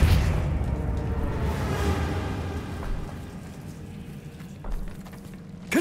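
Depulso spell cast in Hogwarts Legacy, a heavy booming whoosh that swells and fades over several seconds, ending in a sharp burst.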